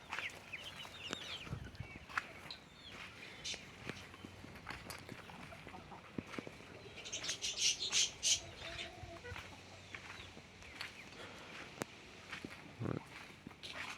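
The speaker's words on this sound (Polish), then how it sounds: "taki agresywny kogut" Rooster calls and hen clucking come and go around a farmyard, with a burst of loud crowing in the middle and scattered footsteps and rustling.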